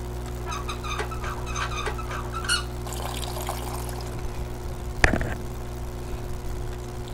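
Water runs from a busted faucet in a hidden-object adventure game, a faint continuous trickle and pour under a steady hum, with scattered chirpy effects and a sharp click partway through; no one speaks.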